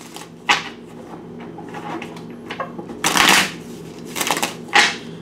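A deck of tarot cards is shuffled close by in quick riffling bursts, with several sharp rustling flurries and soft taps between them, over a quiet low hum.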